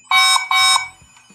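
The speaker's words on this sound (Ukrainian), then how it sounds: "Після сигналу натискаємо «Я почув біп»" A Wi-Fi smart camera built into an E27 light-bulb socket gives two loud, sharp electronic beeps in quick succession during pairing, followed by fainter, softer tones.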